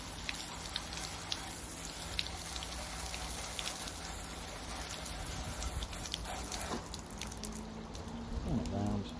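A hose pipe sprays water over a wet Eazypod koi pond filter being cleaned, giving a steady, close, broadband hiss of spray that runs unbroken from start to finish with little change in level.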